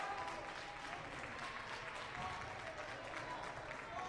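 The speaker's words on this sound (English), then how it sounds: "Prairie Ridge's bench went back to standing up again and clapping" A high-school basketball team's bench stands and claps at a holiday tournament game, a steady wash of applause and crowd noise throughout, with no single claps standing out.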